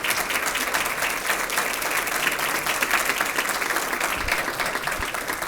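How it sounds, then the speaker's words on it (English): Sustained applause for a selection committee at a Teacher of the Year program, a dense, even wash of many hands clapping from a large audience with no talking over it. "could we give them a round of applause?"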